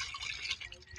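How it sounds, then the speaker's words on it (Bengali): Cut mango pieces rinsed in water, with close splashing and dripping sounds carrying through the short stretch at moderate volume in a home kitchen. "এবার আমি আমগুলো ভালো করে ধুয়ে নিব।"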